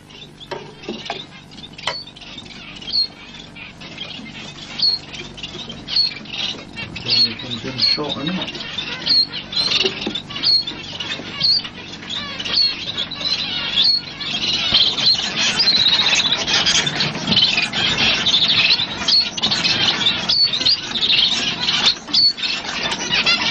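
A finch sings in a series of high, rapid chirps and trills, growing busier and louder toward the end, over a noisy, worn tape recording with rustling and handling sounds.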